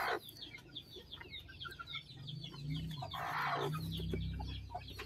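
Young chicks peep and chirp steadily, with a hen clucking low beneath them, close and fairly loud on a farm.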